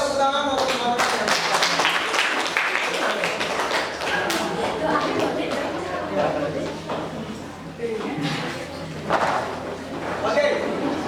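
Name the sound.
classroom students clapping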